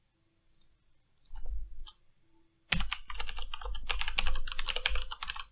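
Typing a username and password on a computer keyboard while playing the Extreme Fishing game, a burst of quick, close clicking keystrokes that grows dense and steady after a few sparse taps.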